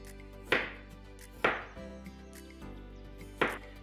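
Knife cutting salmon into small strips on a board, four sharp separate knocks spaced about a second apart, quiet and close, with no talking.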